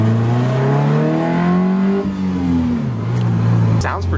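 A Honda Civic built to roughly 700 hp, with very long exhaust manifold runners, revs hard and loud up close, its engine note climbing and falling in steady harmonic sweeps before dropping sharply near the end.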